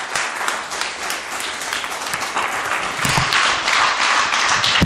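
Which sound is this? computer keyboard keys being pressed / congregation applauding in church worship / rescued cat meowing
congregation applauding in church worship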